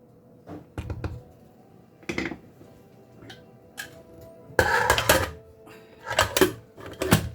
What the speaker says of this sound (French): On ferme la cocotte.